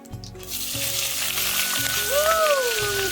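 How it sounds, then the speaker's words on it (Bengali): Onion and green chili sizzle steadily in hot oil, a continuous crackling hiss that holds at an even level, with a faint whistling tone rising over it near the end. "এবার আমি পেঁয়াজ আর লঙ্কাটা দিয়ে দেবো"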